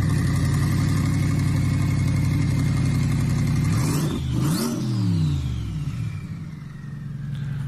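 A turbocharged C8 Corvette with an open downpipe idles with a deep, steady burble, then is revved in a sharp, rising-and-falling blip before settling back to a rough idle, close and loud with no talking.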